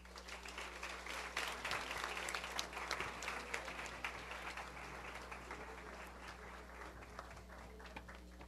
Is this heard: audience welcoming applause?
yes